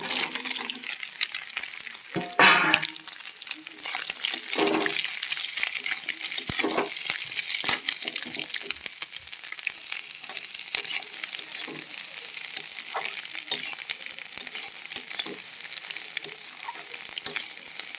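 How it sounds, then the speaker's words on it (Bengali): Onions fry and sizzle in a pan over a medium flame while a spatula stirs them, giving a constant crackling hiss broken by scraping strokes and a few louder clanks, close and with no talking. "মিডিয়াম ফ্লেমে আমি পেঁয়াজগুলো ভালো করে নাড়াচাড়া করে ভেজে নেব।"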